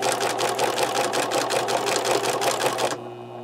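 Sewing machine stitching a half-inch seam in denim for a notebook cover, a fast rapid-fire run of needle strikes for about three seconds before it stops, leaving a faint hum.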